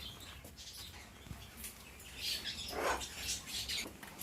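Small caged birds in a pet shop give scattered, faint high chirps and tweets against quiet room background, a little busier toward the end.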